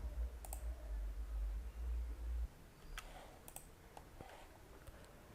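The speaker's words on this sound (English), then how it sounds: "Click on Manage and click on Install Application." A few sharp computer mouse clicks come during a WordPress install on GoDaddy web hosting. The clicks are sparse and faint over a low background hum.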